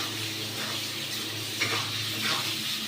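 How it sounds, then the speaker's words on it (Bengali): Paneer fries in a pan, a soft, low sizzle with faint stirring, fairly quiet and even over a few seconds. "লাল করে ভাজতে লাগবো এটা।"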